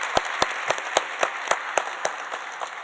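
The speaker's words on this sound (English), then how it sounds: "Can we give them another round of applause?" Applause at a secondhand smoke prevention session, heard as about ten distinct, evenly spaced sharp claps from a few hands, close and fading slightly toward the end.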